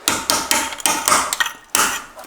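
Sharp metallic hammer strikes on a chisel knocking off welding slag, about seven close, loud knocks in an uneven rhythm, with no voices.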